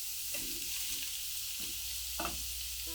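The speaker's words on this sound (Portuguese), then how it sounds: "Deixa eu refogar aqui bem fritinho. E agora eu vou acrescentar a linguiça aqui" Skinned sausage sizzles steadily in a pan with ground pork, with several soft stirring scrapes breaking through the continuous frying hiss, close and alone.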